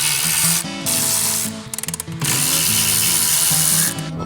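Ratchet wrench with a half-inch socket loosening four mounting bolts on a hose reel bank in a wash bay, giving loud continuous clicking with a brief stuttering burst of rapid clicks midway and no talk.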